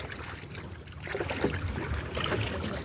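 Water sloshes and laps steadily as a small boat is paddled near an island, with soft rhythmic strokes and splashes close by.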